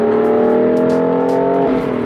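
A BMW F80 M3 with a manual gearbox drones steadily from inside the cabin while driving, a loud, even engine tone holding at constant revs and easing off slightly near the end.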